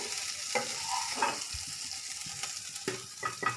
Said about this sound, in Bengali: খুব বেশি ভাজবো না, স্টিফ হয়ে যাবে চিংড়ি মাছ।